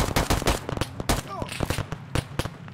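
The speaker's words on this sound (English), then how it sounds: "Getting shot at." Rapid gunfire from a military shooter video game, with bursts of sharp cracks and scattered single shots, loud and dense over about three seconds, with faint voices underneath.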